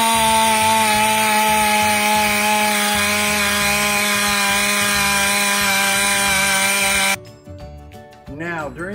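Pneumatic polisher working on a tail light, a loud continuous high-pitched whine with a droning tone for about seven seconds, then cutting off abruptly into quieter handling noise.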